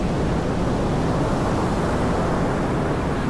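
Sea waves at Jamestown beach in Accra, Ghana, with brown water, make a steady broadband roar of surf that stays loud and unbroken, mixed with wind.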